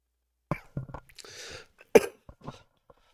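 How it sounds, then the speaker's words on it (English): A person coughs a few times close to the mic, short harsh bursts with a rough breathy stretch between them. "Sorry, I'm not meaning to cough into the microphone here."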